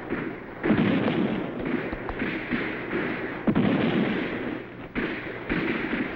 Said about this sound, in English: We've got to silence that cannon on the hill